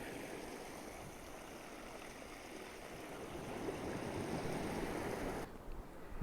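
Small muddy waterfall pouring on a sandy beach, a steady rushing and splashing of water heard close by and fairly soft, growing slightly louder before a brief dip near the end.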